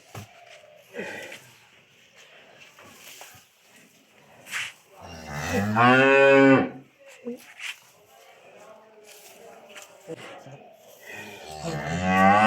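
A Holstein Friesian dairy cow moos loudly and close by in a long, deep bellow, with a second rising moo near the end; someone talks over the quieter stretches between calls.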